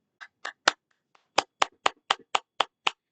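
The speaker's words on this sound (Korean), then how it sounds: "자, 여러분들 위해서 박수" A small group of students in a lecture class clap in separate, sharp bursts, about ten distinct close claps spaced unevenly at first and then in a steadier rhythm, with no talking.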